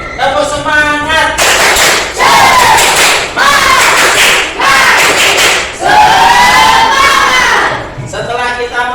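A school class performs a rhythmic spirit clap cheer, loud group clapping in bursts with children shouting along, alternating with a teacher's voice between rounds.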